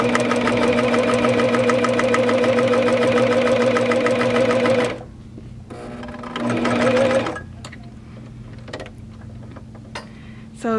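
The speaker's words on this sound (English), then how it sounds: "So we're going to use the cover stitch machine to do that." A Janome CoverPro 900CPX coverstitch machine hemming a pocket for a tote bag, running loud and steady with a fast rhythmic needle chatter for about five seconds, then a shorter burst before stopping, followed by faint handling clicks.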